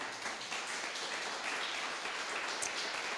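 Church congregation at a Spanish-language worship service claps together, a loud, dense and even burst of applause with no voices standing out.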